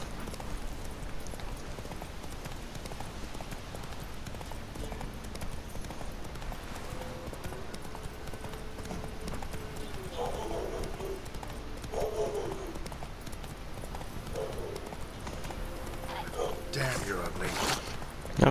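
A horse gallops in The Witcher 3: Wild Hunt with steady rhythmic hoof clip-clops, a few creaks and a brief whinny near the end, under faint game ambience.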